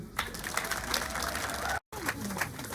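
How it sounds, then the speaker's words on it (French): An audience at a rural women's day celebration in Sikensi applauds: a steady, moderately loud wash of many hands clapping with crowd murmur, broken by one brief dropout near the end, then resuming. "Est-ce que vous pouvez vous applaudir?"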